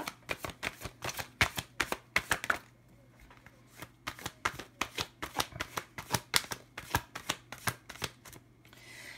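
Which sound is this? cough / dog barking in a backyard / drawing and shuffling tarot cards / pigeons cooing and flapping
drawing and shuffling tarot cards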